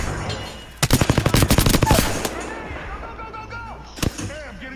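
A rapid burst of automatic gunfire in the Apex Legends video game rattles off a dozen close, sharp shots, followed by a single loud report, with brief speech nearby.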